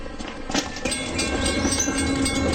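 A train rolls past up close, a steady loud rumble and clatter of railway wagons sustained throughout with no talking.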